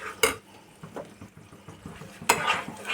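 Spice masala being stirred and fried over medium heat in a pan, with two sharp utensil clanks against the pan and softer scraping in between over a faint sizzle.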